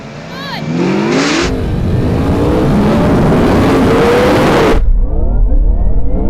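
A Ferrari SF90, a Porsche Taycan Turbo GT and a Yamaha R1M launch in a drag race from a rolling start, producing a loud, close, sustained surge of engine roar and rising whine that cuts off abruptly near the end.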